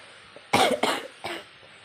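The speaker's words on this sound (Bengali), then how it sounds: "কাশি হয়ে গেছে" Three quick, harsh coughs in a row, close and loud, the last one a little softer, with quiet around them.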